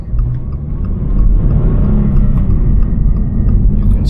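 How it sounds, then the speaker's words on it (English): Inside a Toyota GR86 while driving with its artificial engine sound removed, a steady low engine rumble and road noise hum continuously, with no voices. "You can still hear the motor, but nothing like you did before with that faux"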